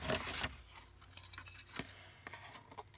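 Scissors snip off a piece of a handmade paper embellishment base, giving a few sharp close cuts separated by quieter rustling of paper, with no talking.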